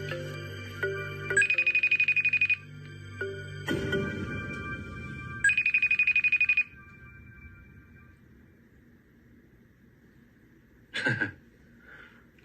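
Electronic telephone ringing from a played TV clip, several bursts of a bright warbling tone with beeps between and a short chirp near the end, heard alone without talk.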